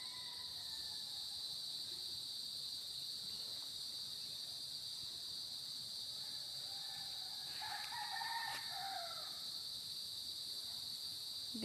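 A fighting rooster crows faintly in the distance, its calls rising and falling twice against a steady high chorus of crickets.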